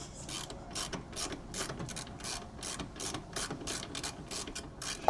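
Hand ratchet with a half-inch socket turning a bolt on a car, giving a fast, regular series of sharp clicking bursts, close and steady for several seconds with no talking.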